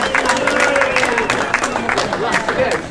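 Crowd applause and cheering for a Dutch rider at the Masters cyclocross world championship, 55–59 category, in Mol, Belgium. A continuous wash of clapping and murmur sits under an announcer's voice talking throughout.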